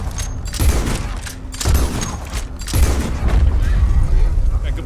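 Bursts of Red Dead Redemption 2 gunfire, booming and rapid, come in several waves across the clip, loud and dense, with a voice talking faintly underneath.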